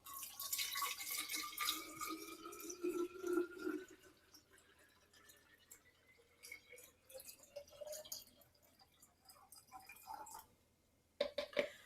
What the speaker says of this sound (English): if I go to fill up my water bottle